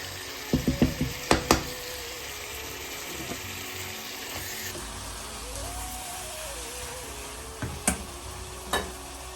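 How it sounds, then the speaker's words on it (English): Steady sizzling of chicken frying in leftover onion oil in a pan, with a scatter of utensil clinks and knocks over the continuous crackle. "chicken should fry in the leftover oil from onions"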